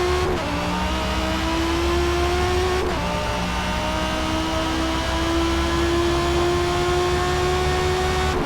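A 2020 Audi R8 V10 Performance with its Lamborghini Huracan-derived V10 engine accelerating hard in a racing game, loud and continuous, revs climbing through two gear shifts.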